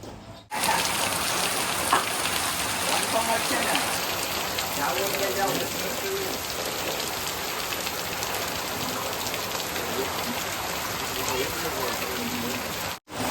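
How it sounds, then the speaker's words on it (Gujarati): Heavy, steady rain pours down continuously at a fair during the monsoon, a dense, loud hiss of drops drumming on surfaces without a break, with faint voices underneath. "વરસાદ એકદમ દીધ્યું ને એ ધોધમાર વરસાદ છે"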